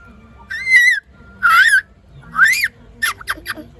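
A person whistles in imitation of a koel's call, four rising, warbling whistled phrases, the last broken into short rapid chirps, close and clear over a quiet background.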